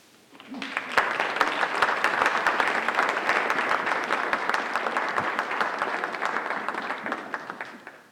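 An audience breaks into sustained applause welcoming Lisa Carter to speak at a library event, the dense clapping swelling quickly, holding steady for several seconds, then tapering off.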